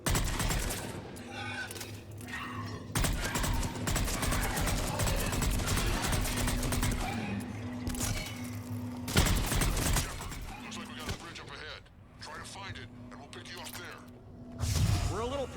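A sustained firefight in the video game Mass Effect 3, with rapid bursts of gunfire, thuds and whooshes going almost continuously, dropping briefly before picking up again. Voices talk over the shooting now and then.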